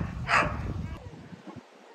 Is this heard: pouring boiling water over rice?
no